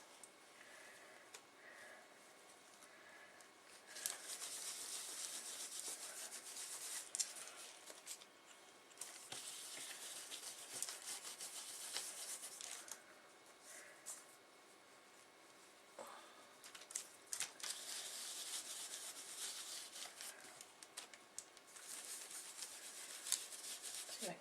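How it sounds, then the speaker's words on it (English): Rubbing blue stencil color on with a baby wipe: soft, continuous papery scrubbing strokes, close and quiet, in uneven bursts with short pauses between them. "rub it on with a baby wipe, just kind of randomly"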